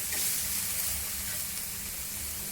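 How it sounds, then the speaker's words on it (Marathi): Onion and tomato frying together in a pan for egg curry, producing an even, continuous hiss of sizzling oil without breaks. "आता ह्यात आपण टोमॅटो टाकून घ्यायचं आणि टोमॅटो पण भाजून घ्यायचा असं थोडा कांदा बरोबर."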